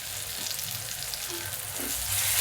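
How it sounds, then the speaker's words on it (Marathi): Onion frying in hot oil with curry leaves for an ivy gourd vegetable dish, a steady close sizzle throughout with no talking. "चांगला परतून घ्यायचा कांदा"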